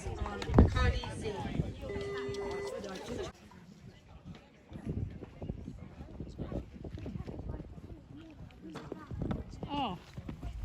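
Horse hooves clip-clopping during a show jumping round, faint rhythmic thuds heard beneath ongoing commentary and talk, with some background noise.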